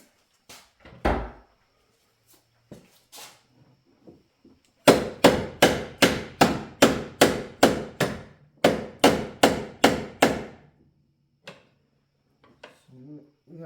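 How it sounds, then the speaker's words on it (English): Repeated metal hammer blows on a part of a 2015 VW Beetle 1.8 TSI engine during a tensioner replacement, a few scattered knocks followed by a steady run of about fifteen loud, evenly spaced strikes with short pauses, close up. "Sure if I hammer that under there."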